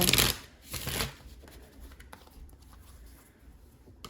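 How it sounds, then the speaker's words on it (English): Tarot cards are shuffled close by, two quick riffling bursts followed by softer handling and light tapping. "give me a second to shuffle"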